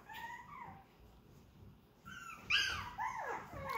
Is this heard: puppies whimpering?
yes